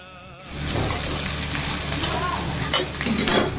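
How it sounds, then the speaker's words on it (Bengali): Chowmein noodles go into a hot wok with ginger and salt and are stir-fried, a loud steady sizzle with scraping and clinking of the utensil against the wok, louder bursts near the end. "এবার আমি চাউমিনগুলি দিয়ে দিচ্ছি।"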